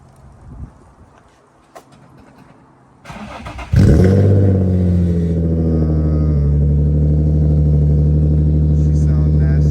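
Infiniti G37 engine turning over and catching, then settling into a loud, steady low idle close by, after a few seconds of quieter background noise.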